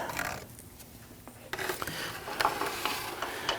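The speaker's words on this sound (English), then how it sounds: "I'm kind of holding on to the tensioner while I remove that bolt" A ratchet turns out the serpentine belt tensioner bolt on a 2010-2019 Ford Taurus 3.5L V6, giving quiet rapid clicking bursts at close range with a few sharper clacks of metal.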